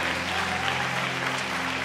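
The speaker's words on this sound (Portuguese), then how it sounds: "Dá um aplauso para o Senhor." A church congregation claps together for the Lord during a sermon, dense steady applause filling the room at moderate loudness with faint murmuring underneath.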